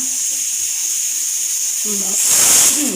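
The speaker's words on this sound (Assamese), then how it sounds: "ভাজি আছোঁ" Fish sizzling as it fries in a pan in a home kitchen in Assam, a steady hiss that swells louder near the end, with faint low tones under it.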